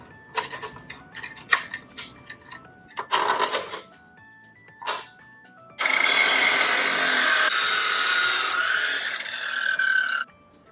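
Material for a homemade straight bumper guard is cut at 45 degrees, with a cluster of small clicks and taps followed by a loud, steady grinding saw run of several seconds that stops abruptly.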